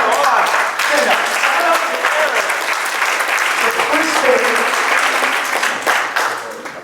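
Sustained clapping from a crowd at a corporate kick-off event in Toronto fills the whole stretch, steady and dense, tapering off slightly at the end, with some voices mixed in.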